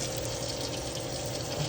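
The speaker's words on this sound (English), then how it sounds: "So we're gonna let the process going. You see the water running." Water runs steadily through a Mr. Coffee drip coffee maker, a continuous close hiss and gurgle at an even level throughout, with no talking.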